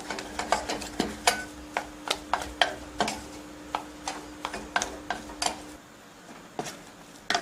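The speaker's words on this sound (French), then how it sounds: "sur le feu et dessécher la pâte pendant environ 50 secondes, voire 1 minute, pour favoriser l'évaporation de l'eau" Choux pastry dough stirred and dried in a pan over heat, with a steady run of sharp spoon-against-pan scrapes and knocks at a fairly even rhythm, close and clear, with a faint sizzle underneath and no talking.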